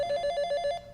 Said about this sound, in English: I was awakened later by the phone